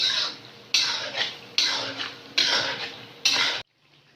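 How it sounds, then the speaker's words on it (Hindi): A metal spoon stirs green chillies frying in a karahi for chicken karahi, producing five bursts of bright scraping and sizzle spaced under a second apart, close and fairly loud, ending in sudden quiet. "दोनों चीज़ों को डालकर अच्छी तरह से भुनाई कर लेते हैं इसकी। इसको हमने 3 से 4 मिनट इसमें फ्राई करना है"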